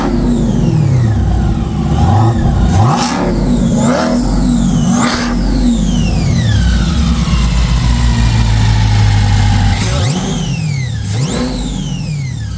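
A supercharged Corvette C8 with a Borla exhaust idles and revs repeatedly, loud close blips rising and falling with a high supercharger whine sweeping up and down through each rev, no talk.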